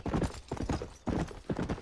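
A horse's hooves clip-clop in the video game Red Dead Redemption, a quick, even, close run of hoof beats that repeats steadily on its own.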